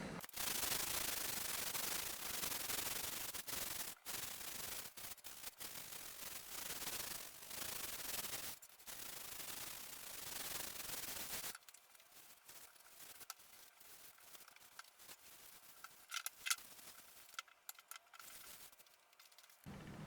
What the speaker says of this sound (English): I'm going to give this a light sanding with some 220 grit